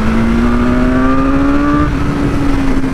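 A 2021 BMW S1000R motorcycle engine pulls loud and close, its pitch rising steadily as it revs through the gears, then easing slightly while the throttle holds.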